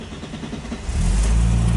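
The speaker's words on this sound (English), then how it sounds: "you just turn the ignition on. You don't give it any gas." The fuel-injected engine of a 1969 Mercedes-Benz 280SL with a 4-speed manual cranks briefly and then catches, settling into a loud, close, steady idle rumble.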